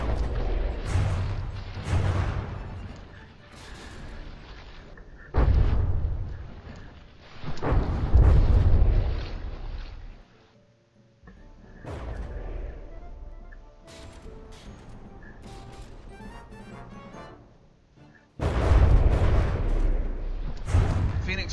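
Heavy cannon fire and explosions from a From the Depths naval tournament battle, Phoenix versus Varluk, with loud booming bursts recurring throughout, separated by rumbling lulls and a brief near-silent gap, under low voices.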